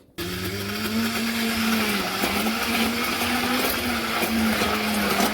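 A blender runs steadily, whirring almonds with milk, water and oil into a thick mix; a loud, even motor drone with a humming pitch that starts abruptly and holds without a break.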